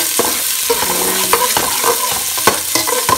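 Onions sautéing for kabsa in a home kitchen in Riyadh, a steady sizzle and hiss with repeated scraping strokes of a spoon against the pan, close and clear with no talking.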